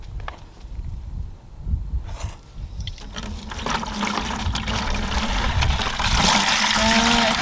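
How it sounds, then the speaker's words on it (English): Water pours steadily into a container being filled to its halfway mark while fire ants are being treated, a continuous trickle and splash that grows louder and fuller toward the end, with some handling noise early on. "So we're going to just fill it up with water."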